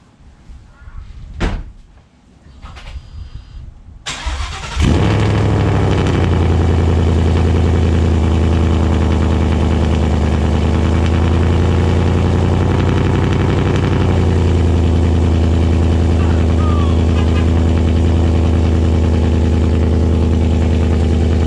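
After a few clicks and knocks, a car engine fitted with new Corsa long-tube headers and an MBRP cat-back exhaust cranks and fires up, then settles into a loud, deep, rumbling idle that continues steadily.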